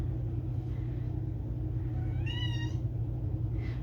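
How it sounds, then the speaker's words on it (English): A pet cat meows once loudly and clearly, a drawn-out fussing call, then gives a fainter short mew near the end over a steady low rumbling room hum. "Y'all hear my cat fussing at me?"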